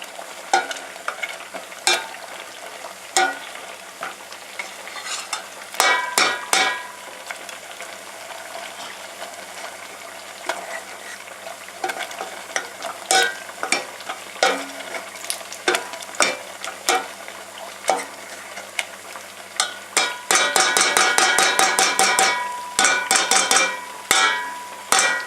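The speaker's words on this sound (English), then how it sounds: "So we're just mashing down the beans." Boiled beans mashed down in a pot, a bubbling, sizzling bed of sound under repeated scraping and clacking strokes that quicken into a dense burst of rapid taps near the end, with no talking.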